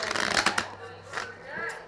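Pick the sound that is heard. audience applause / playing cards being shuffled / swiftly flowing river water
playing cards being shuffled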